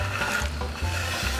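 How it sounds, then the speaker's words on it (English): A rubber spatula folding chopped pecans into brownie batter for an iron skillet, soft wet scraping strokes repeating in a slow rhythm, close and alone. "Just take a rubber spatula and just fold them right in"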